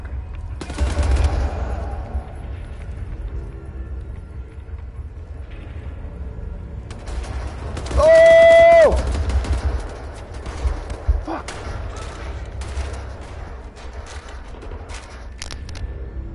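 Carbine gunfire in the video game Wolfenstein, a run of sharp shots spread across the clip, with one loud tonal burst partway through and other game sounds around it.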